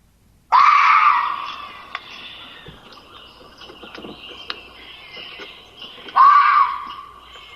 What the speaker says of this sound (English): So we're hearing those screams for help.